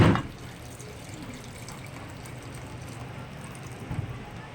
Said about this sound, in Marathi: तर आता पाणी तापलं आहे आणि आता मी आहे ना ते मटणामध्ये घालते.